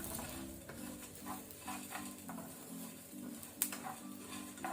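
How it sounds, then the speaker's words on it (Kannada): Fenugreek seeds, peppercorns and ajwain dry-frying together in a pan over a low flame, a soft, quiet sizzle with gentle stirring scrapes, a faint pattering rustle and one brief sharp clink near the end. "ಸೊ ಇದನ್ನೆಲ್ಲ ಒಟ್ಟಿ ಸೇರಿಸಿ ನಾವು ಲೋ ಫ್ಲೇಮ್ ಅಲ್ಲಿ ಫ್ರೈ ಮಾಡ್ಕೊಳ್ಳುವ, ಸ್ವಲ್ಪ ಲೈಟ್ ಕಲರ್ ಚೇಂಜ್ ಆಗೋ ತನಕ."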